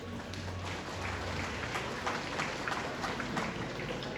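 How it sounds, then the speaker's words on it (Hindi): A crowd at a strike rally applauds its leaders with a steady, dense wash of clapping, even in loudness and held throughout, with a low hum underneath. "आप लोग जोरदार तालियां बजाइए"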